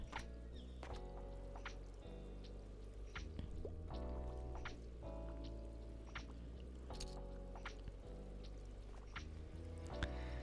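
Rain patters and drips steadily in the Tiny Bookshop video game, a continuous wet wash running throughout under gentle background music, with no voices.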